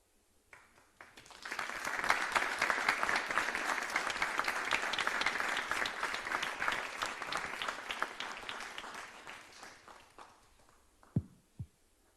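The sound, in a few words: audience applause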